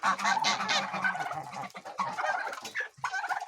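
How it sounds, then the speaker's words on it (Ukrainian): Geese running from the nest honk repeatedly at close range, loud overlapping nasal calls with a few short gaps, some clucking poultry mixed in on a farmyard during morning feeding. "Гусечка біжить наша з гнізда."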